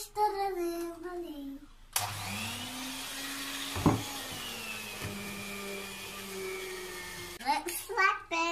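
A steady electric mixer whirs loudly through cake batter for several seconds, with a brief clatter partway, while someone talks just before and after it.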